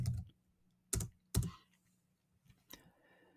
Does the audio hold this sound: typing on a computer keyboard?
yes